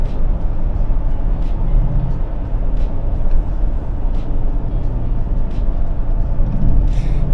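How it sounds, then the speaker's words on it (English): Steady engine drone and rushing wind noise fill the cabin of a Toyota Sequoia SUV with a roof rack cruising at 65 miles per hour, with no one talking. "You can hear more engine noise than you can rack noise,"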